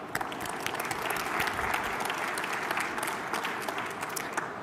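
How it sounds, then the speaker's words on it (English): A crowd applauds award winners at a business technology conference, with steady, dense clapping that fills the room close and loud from start to finish, without talk over it. "A round of applause to all of our winners today."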